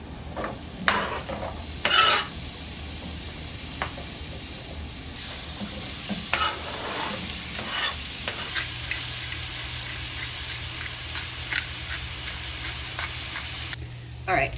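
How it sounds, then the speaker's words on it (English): Onions and peppers fry in a pan with a steady, low sizzle, punctuated by scraping and stirring clatters from a utensil, close and moderately quiet, with a soft hum in the background. "my onions and peppers have been going for about 20-ish minutes"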